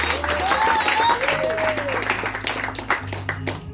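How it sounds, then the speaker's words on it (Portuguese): Applause from a church congregation, a brief burst of clapping mixed with voices and tonal sounds, fairly loud and close, over about four seconds. "Dá uma salva de palmas para Jesus."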